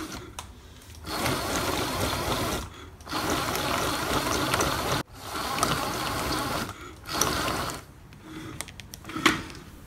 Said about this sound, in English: So now, I'm gonna try engaging the throttle.